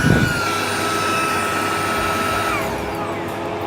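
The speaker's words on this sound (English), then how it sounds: "this thing did an awesome job vacuuming out the Plaid" A vacuum blower runs steadily while cleaning out the interior of a Tesla Model S Plaid, a loud, even whine with a faint rising tone, close by and alone.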